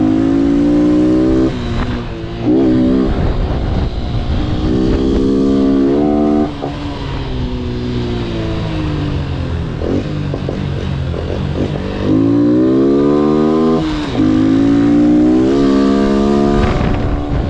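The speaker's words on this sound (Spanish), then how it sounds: "Zarpado lo que va la moto" Honda Wave S motorcycle accelerating hard, its engine loud and close, climbing in pitch through repeated gear shifts with brief dips between pulls, alone with no talking.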